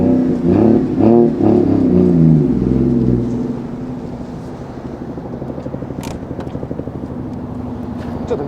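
Toyota Chaser JZX100 Tourer V with a stock five-speed manual, its engine rumbling and revving loudly up close as it is eased onto a slope, then settling into a steady pulsing idle.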